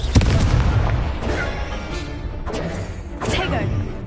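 Confringo fire spell in Hogwarts Legacy, a sharp, heavy boom at the start followed by rumbling combat noise and further thudding impacts, with voices speaking in the mix.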